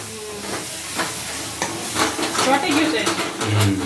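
Spices crackle and sizzle in hot oil over a low flame with bursts of popping and spoon stirring, close by and fairly loud.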